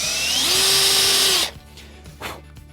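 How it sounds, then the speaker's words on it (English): A power drill bores a pilot hole into a ContiBoard top panel, its loud whine rising then holding steady for over a second before cutting off, followed by a few faint knocks and handling sounds. "So drilling a pilot hole"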